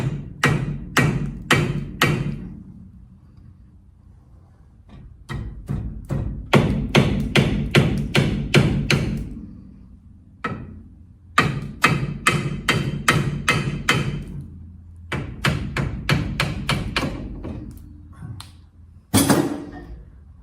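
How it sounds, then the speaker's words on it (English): Repeated heavy hammer blows strike a metal truck kingpin during disassembly in rapid bursts of sharp, ringing clanks, separated by short pauses, loud and close. "all the science behind whacking stuff with a hammer"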